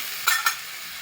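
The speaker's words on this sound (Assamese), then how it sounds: "ৰঙা হোৱাৰ পাছত তেলত ধুনীয়াকৈ ভাজি আছোঁ" Food frying in oil on a stove before meat is added. Two brief bursts of sizzling hiss rise quickly over a faint background and then fade.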